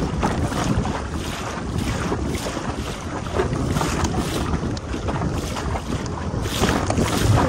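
Choppy waves splashing against a small boat out on Hickling Broad in rough, windy weather, with steady wash and buffeting wind noise on the microphone throughout.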